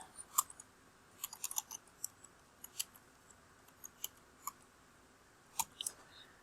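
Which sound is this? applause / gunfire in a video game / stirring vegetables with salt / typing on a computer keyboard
typing on a computer keyboard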